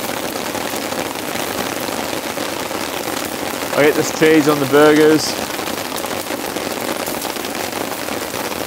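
Heavy rain drums steadily on a tent at a campsite, a dense hiss with a voice speaking briefly midway over it.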